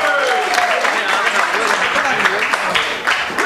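Applause from an audience at a neighbourhood music event in Rotterdam's Oude Noorden, steady dense clapping filling the whole moment for a singer, with a voice briefly audible over it.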